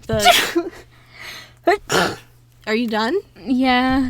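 A person sneezes sharply and loudly up close, followed by a second sneezy burst, with casual talk before and after.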